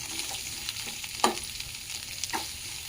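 Fish curry ingredients, including onions, coriander seeds, cumin and fenugreek, fry in a pan with a constant crackling sizzle broken by a few sharp spatula clinks and stirs, close and without talk.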